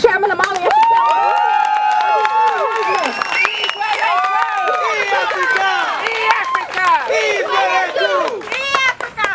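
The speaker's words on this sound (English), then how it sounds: "I just want to give a great round of applause to Chairman Amalia Chattel" Crowd at an outdoor reparations rally cheering and shouting loudly, many voices overlapping in whoops and calls with some clapping mixed beneath, sustained at close range.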